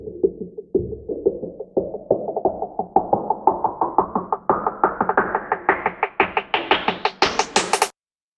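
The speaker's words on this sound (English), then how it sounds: "So here's what the drums sound like. Again, it's just like a syncopated little rising drum." A syncopated drum loop for a K-pop track plays alone. Its steady, sharp hits climb higher and brighter through a high-Q filter sweep that builds tension, then cut off abruptly.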